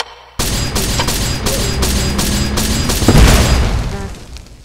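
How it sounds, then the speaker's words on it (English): Fireballs exploding in a video game, a loud rapid run of booming bursts that repeats steadily, then swells into a heavier blast near the end. "Oh, there we go. More fireballs."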